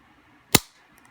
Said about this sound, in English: this thing just snaps